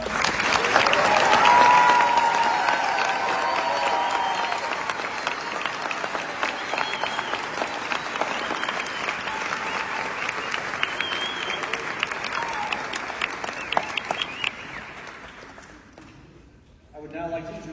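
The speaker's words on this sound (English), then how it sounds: "Let's give everybody a round of applause." Audience applause at a medical school white coat ceremony, a sustained broadband clapping from a large crowd lasting about fifteen seconds, with a voice faintly audible beneath, then fading out near the end.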